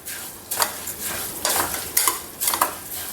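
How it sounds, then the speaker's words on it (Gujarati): Lapsi (broken wheat) roasting in a pan, stirred steadily with a spoon, giving repeated rhythmic scraping swishes over a constant dry sizzle, close and clear, with no talk. "આપણે તેને આ રીતે સતત હલાવતું રહેવાનું અને બરાબર શેકી લેવાના છે"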